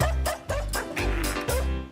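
Noishe, the dog-like companion in Tales of Symphonia, gives four evenly spaced, loud, close barks, each a short yipping bow-wow with a low thump underneath.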